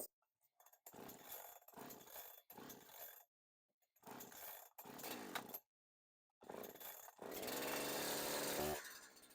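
A Holzfforma 372xp chainsaw takes several short sputtering pulls that catch and die in bursts with silent gaps, then fires up and runs loud and close, with the choke set and the decompression valve used.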